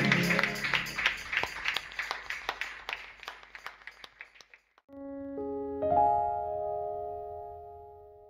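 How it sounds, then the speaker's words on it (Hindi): A church congregation at a Sunday service claps in a steady, rhythmic beat that gradually fades over about four seconds, after which sustained keyboard or organ tones take over. "आइए अपने परमेश्वर के लिए एक उत्तम तालियों का अर्पण हम उसके लिए बजाएं"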